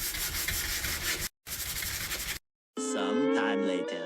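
Cupboard laminate being sanded by hand with a sanding block, heard as steady raspy scraping strokes in two bursts separated by short pauses, followed by a voice speaking.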